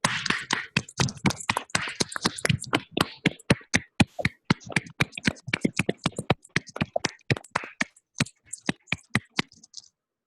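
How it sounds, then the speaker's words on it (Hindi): Students in a classroom break into loud, dense applause that thins to scattered individual claps over about ten seconds before fading out. "जोरदार तालियां"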